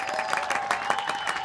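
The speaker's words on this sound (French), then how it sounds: "Applaudissez-les bien fort!" A studio audience applauds a band on a French TV show, a steady wash of clapping and crowd noise that holds at an even level throughout without pause.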